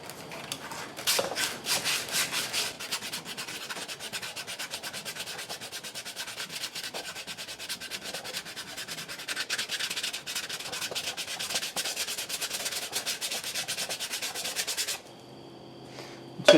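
Sandpaper rubs paint off a Pontiac Firebird part in a continuous rasping scrub of quick strokes, close and steady, stopping abruptly near the end.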